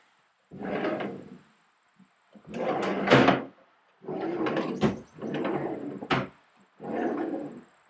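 Wooden drawers in a newly built kitchen base cabinet with half-inch overlay fronts slide open and shut on their runners, five separate strokes in a row, near and fairly loud, each ending in a soft knock.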